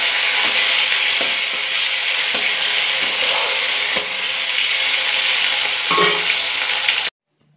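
Tomato dropped into a tempering of nigella seeds and dried red chilli in hot oil, a loud dense sizzle with crackles and stirring knocks that cuts off abruptly near the end.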